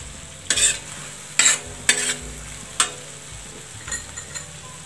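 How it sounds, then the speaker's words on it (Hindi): Tomatoes for pav bhaji get stirred in a frying pan, with several sharp spatula scrapes against the metal over a soft background sizzle, heard up close. "तो देखिए हमारे टमाटर भी अच्छी तरह से भुन गए हैं।"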